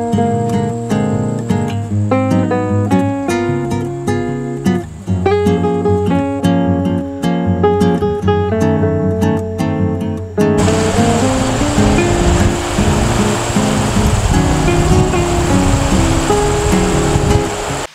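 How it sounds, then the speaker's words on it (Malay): Steady rushing of the Tembeling River near a riverside eco resort at Kuala Tahan, Taman Negara, a constant broadband roar running under musical tones, which give way to a fuller, louder wash partway through. "Dengar bunyi deruan sungai"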